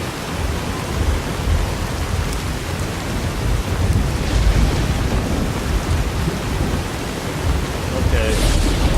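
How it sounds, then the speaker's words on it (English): Rain and thunder in the video game Fallout New Vegas, out in the Mojave Wasteland, make a dense, steady wash of rain with low rumbling swells, loud and continuous throughout. "and now it's raining"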